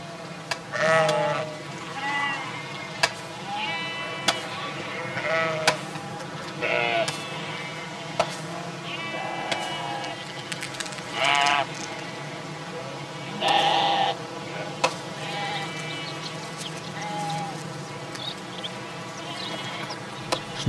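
Sheep and goats bleat in a pollarded forest in Thrace, Greece. Many overlapping calls from a flock rise and fall over a steady background hum, some close and others farther off.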